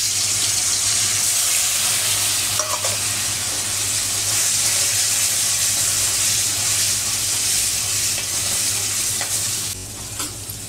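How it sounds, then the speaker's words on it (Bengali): Chickpeas frying in hot oil give a steady, dense sizzle and crackle for the whole stretch, close and loud, with a few faint utensil clinks and no talking. "ছোলাগুলো একটু ভেজে নেবো এবারে"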